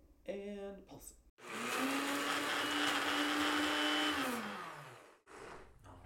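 A food processor chops pesto ingredients with sunflower seeds and olive oil, running in one long loud whirring burst of about four seconds that winds down at the end. Brief sounds come just before and after, with a voice nearby.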